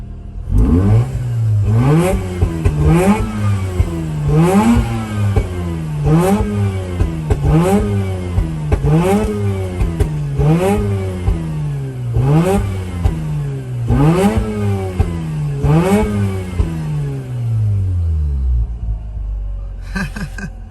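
A 2004 Mazda RX-8 rotary engine, restarted after two years unused, revs repeatedly in rising sweeps, each rev followed by sharp pops and crackles, close and loud, before settling.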